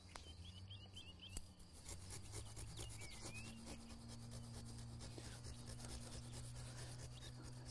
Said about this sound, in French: il vaut mieux s'aider plutôt avec une scie qu'un sécateur ébrancheur